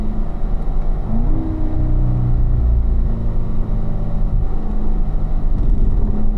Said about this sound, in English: So John, just accelerate in 3rd gear here for me, or if you're in 4th, get ready to downshift to 3rd